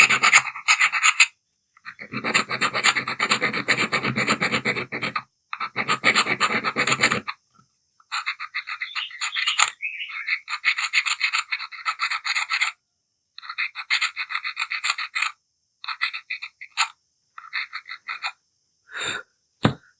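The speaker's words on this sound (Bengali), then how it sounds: "এই ফাইল দিয়ে এটা প্রথমে এভাবে পরিষ্কার করে নেবো, ঘষে নিয়ে দেখবো এই সমস্যার সমাধান হচ্ছে কিনা।" A metal file rubbed back and forth on the contact of an LED rechargeable emergency light, giving harsh scraping rasps in irregular bursts separated by short silences, close and alone.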